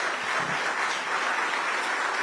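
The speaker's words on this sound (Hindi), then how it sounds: "तो इनके लिए जरा जोरदार ताली बजाइए।" A drone operator from Uttar Pradesh known as Drone Didi receives steady, dense applause from an audience at a hotel event, sustained and fairly near with no pauses.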